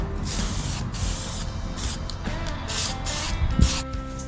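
Short hissing bursts of aerosol spray paint coat a rusty engine oil dipstick from a Triumph Tigress restoration, several close spurts separated by brief pauses, with a small clunk near the end.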